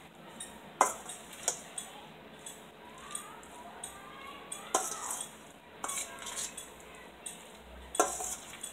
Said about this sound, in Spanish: Entonces ahora lo voy a remover.